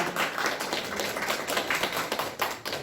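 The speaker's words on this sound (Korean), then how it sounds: "미리 박수 한번 쳐주시죠" A church congregation clapping in welcome during a service, a moderate, close, rapid patter of many hands that runs steadily for a few seconds before tapering off, with no talk over it.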